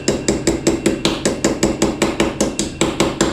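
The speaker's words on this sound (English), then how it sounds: "Make sure you use your favorite hammer to get your battery terminals on." Hammer tapping terminals onto a car battery in a $400 Kia Sportage, a steady series of about fifteen sharp metallic strikes at an even rhythm, close and loud, with no talking.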